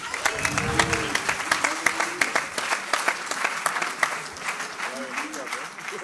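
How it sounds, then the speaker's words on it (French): An audience at a live musical evening applauds a guest, dense continuous clapping throughout, with a voice speaking over the start and a few words near the end. "Je vous prie d'applaudir Monsieur Guillor."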